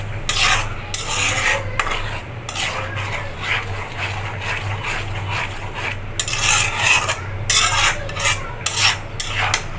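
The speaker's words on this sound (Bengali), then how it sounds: "টমেটোটা দিয়ে আরও কিছুক্ষণ কষিয়ে নিব মশলাটাকে" Spice paste with ground tomato being stir-fried in a pan: repeated rasping, scraping strokes of a utensil against the pan over a steady low hum, close and fairly loud, with no talking.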